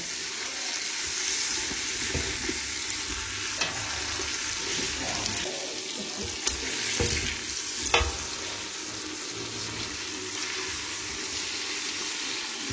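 Chicken thighs fry in a pan with onion, garlic and spices, a steady close sizzle with occasional clacks and scrapes as the pieces are stirred and turned.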